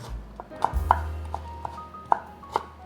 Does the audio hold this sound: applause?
no